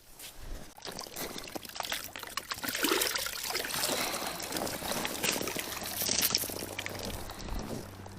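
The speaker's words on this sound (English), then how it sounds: "Still puts his foot in that big water trough." A horse splashes its hoof in a large water trough during barn chores, giving continuous sloshing and trickling water that runs loud and close throughout.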